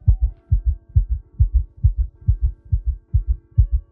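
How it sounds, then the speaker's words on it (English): A steady heartbeat sound effect of deep, paired thumps, loud and close, repeating evenly about twice a second with nothing else over it. "What's that sound? Could it be Jin Yixuan's heartbeat?"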